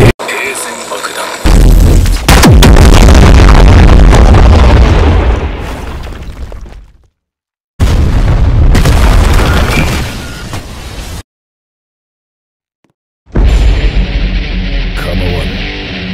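A bomb blast from KJ's moveset in a fighting video game, heavy booming explosions with long roaring rumbles, broken by abrupt silences before another loud burst, with a voice speaking over parts of it.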